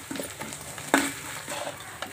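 Crab curry sizzles and fries in a pan as a spoon stirs it, soft scraping strokes over a constant low hiss, with one sharper metallic clink near the middle.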